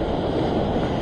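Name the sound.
ocean swell waves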